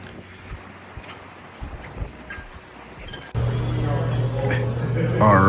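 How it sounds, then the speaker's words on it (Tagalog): Strong wind buffets the microphone outdoors in cold weather, a low steady rumble that swells louder and denser in the second half, with some talking over it. "Lakas ng hangin."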